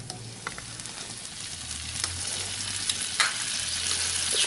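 Melted butter sizzles in a pan set back on the heat, a steady close crackling hiss with a few sharper pops, with no talking.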